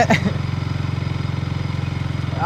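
Steady low KTM motorcycle engine running at a constant idle-like drone, driving a homemade spinning ride wheel, with a brief talking voice at the start and a short rising whine near the end.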